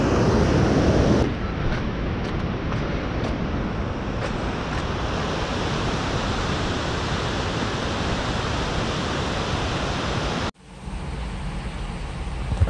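Large waterfall roaring as a dense, constant rush of falling water, with wind buffeting the microphone and a brief drop in level near the end.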